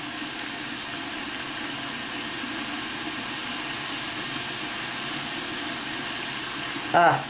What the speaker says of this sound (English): So we'll get the water going hotter here.